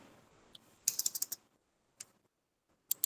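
Quiet keystrokes on a computer keyboard entering prices into an Excel bill list, a quick burst of several taps followed by a couple of isolated key presses, close and clear over faint room noise.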